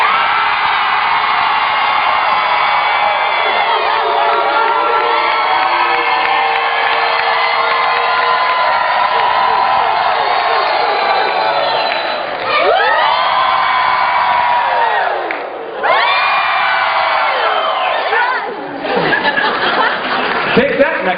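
A large crowd at a summit event screams, whoops and cheers loudly and continuously, with children's shrieks mixed in and a couple of brief dips near the end.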